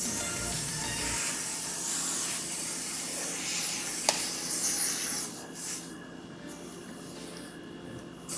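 Hair sheen is sprayed onto a wig, a steady hissing spray lasting several seconds that then breaks into shorter bursts and fades toward the end.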